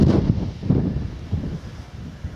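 Wind blowing on a countryside walk near Church Stretton, a low, gusty rumble buffeting the microphone in uneven surges, with no voices.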